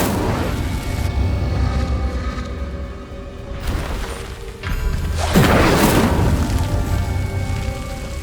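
An Incendio fire spell cast in the video game Hogwarts Legacy bursts out as a rushing, crackling whoosh that peaks into a sharp, loud flare midway, over busy, rain-like game ambience.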